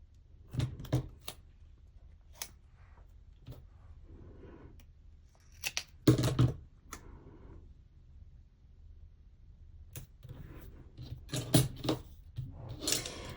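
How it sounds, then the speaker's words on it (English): Scissors trimming a paper Happy Planner monthly page, several crisp snips and short cutting runs scattered across a quiet room, close and soft with gaps of silence between cuts. "And let's trim just a tiny bit on this one too."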